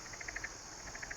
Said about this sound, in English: The cicadas hum again.